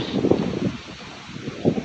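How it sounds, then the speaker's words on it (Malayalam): Strong, gusty wind buffets the microphone outdoors in Australia, a continuous roar with louder surges at the start and end and a calmer lull in between. "ഭയങ്കര കാറ്റാണ് ഒരു രക്ഷയില്ലാത്ത കാറ്റ്"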